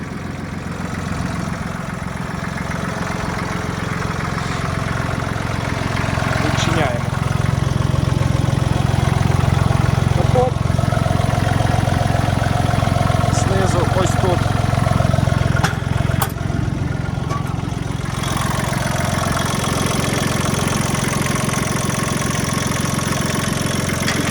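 A Mitsubishi MTR-300 mini tractor engine idles steadily with a low, even chug, rising slightly in loudness midway, then continuing at a constant rumble.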